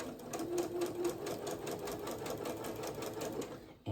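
A sewing machine runs steadily while stitching a pair of pajama pants, a fast, even mechanical whirr that holds close and loud for the whole stretch, with no voices over it.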